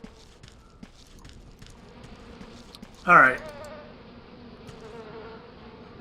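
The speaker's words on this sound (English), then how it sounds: "I also don't want to hear that buzzing all the time." Buzzing bees from an apiary in A Tale in the Desert, a thin steady hum running under the scene, with a short voiced word cutting in briefly near the middle.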